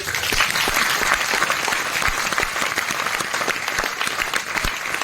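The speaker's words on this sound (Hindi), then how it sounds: "मिस्टर राकेश अरोड़ा जी के लिए जोरदार ताली" Loud, sustained applause from a seminar audience honoring Rakesh Arora, dense and continuous clapping throughout.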